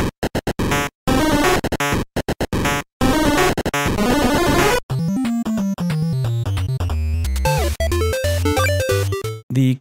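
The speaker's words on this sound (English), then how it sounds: "a plugin that will give you the sound of video games, stuff like that, from back in the day, that low resolution sound" Retro 8-bit video game chiptune from the Magical 8-Bit Plug synth plugin: buzzy square-wave chords in choppy stuttering bursts, then a bouncing bass line under bright arpeggiated blips, loud and continuous with no voices.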